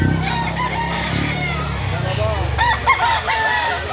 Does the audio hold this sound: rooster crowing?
yes